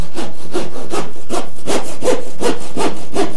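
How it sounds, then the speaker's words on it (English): Fine-tooth panel saw cutting through wood in a steady rhythm of about nine close, loud back-and-forth strokes, with no talking. "we begin by sawing with a fine-tooth panel saw along the shorter"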